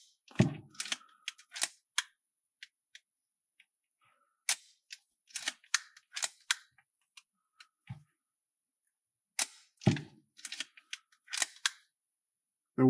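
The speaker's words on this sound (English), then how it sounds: "Fire the camera at all shutter speeds." A Leica M3 rangefinder's shutter fires repeatedly across its range of speeds, giving sharp, close mechanical clicks in irregular clusters separated by short silent pauses.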